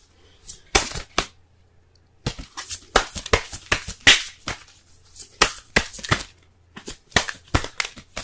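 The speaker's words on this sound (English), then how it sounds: "Let's go ahead and pull some Romance Angels cards for y'all this week." Romance Angels oracle cards being shuffled by hand, with repeated riffling bursts and sharp slaps in uneven clusters separated by short pauses, close and loud, with no talking.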